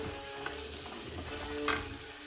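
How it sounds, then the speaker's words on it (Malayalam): Chopped ginger and garlic sizzle in a pan with a steady, faint hiss, broken by a few soft clicks of a stirring spoon. "അതും കൂടി അതിലേക്ക് ഇട്ട് കൊടുത്ത് നമുക്ക് ഒന്ന് വഴറ്റി കൊടുക്കാം."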